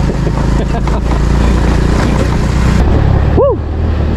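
A borrowed motorcycle climbs a rural hill in first gear, its engine droning loud and strained in a constant labouring roar with wind buffeting, before easing off near the end as a brief whistle-like tone sounds.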